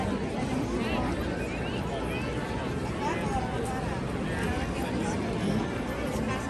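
A large crowd chatters on Main Street in Magic Kingdom, a dense continuous babble of many voices filling the space with no pauses.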